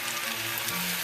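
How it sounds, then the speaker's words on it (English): Chicken marinated in lime, chili and soy sauce fries in a pan, giving a steady, close, even sizzle with no talking over it. "Remember that chicken has the lime and the chili and the soy sauce in it. And as it is frying up"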